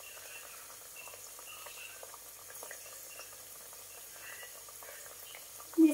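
Thai fish cakes (tod man) frying in a pan of oil, a soft, steady sizzle and bubbling with scattered small pops, fairly quiet and close, ending in a brief louder clink.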